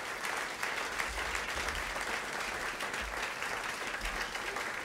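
A jazz concert audience applauds, steady and fairly distant, a broad wash of many hands clapping evenly from start to finish.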